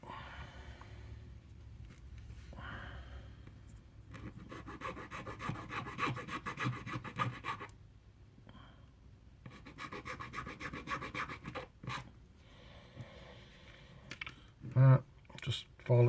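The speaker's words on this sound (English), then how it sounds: "Just file it down one side." Plastic model train coupling filed with a small filing stick: close, raspy scraping strokes in bursts with short pauses, then a few louder knocks near the end.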